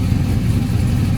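A tuned 450hp LS V8 engine idles close by, a loud, deep and steady low rumble with an even pulsing rhythm and no talk over it.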